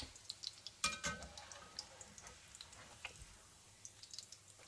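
Salmon croquettes (patties) fry in a pan with a quiet, crackling sizzle dotted with small pops and ticks, plus one sharper clatter near the start.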